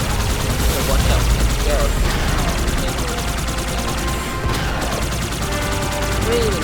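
Gunfire from a Halo 2 battle on a Legendary mission, with a Wraith tank firing, a continuous loud barrage of shots and explosions mixed with game sound, with voices talking over it.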